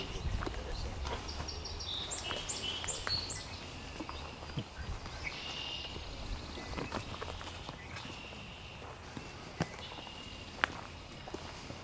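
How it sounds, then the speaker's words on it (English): A song sparrow sings from brush on a lakeside birding hike, its bright trilled phrases coming through quietly at a distance over footsteps on the trail, with faint talk nearby. "You can hear the song sparrow's song"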